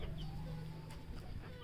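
Chickens cluck on a rooftop Aseel breeding setup, soft intermittent clucks over a steady low murmur of birds nearby, with no talk.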